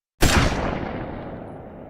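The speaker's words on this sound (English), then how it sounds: "Then, a gunshot." A single loud gunshot cracks sharply after a short silence, followed by a long booming echo that slowly fades.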